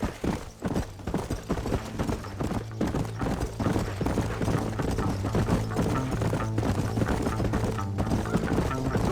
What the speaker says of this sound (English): Get on your horse, amigo.